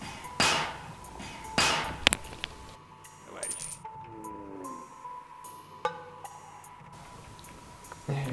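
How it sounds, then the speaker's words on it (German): Several sharp metallic hammer strikes in the Full Pipe video game, two loud blows early followed by lighter clinks and a later hit, with faint game ambience between. "Hau mal einen Hammer gegen."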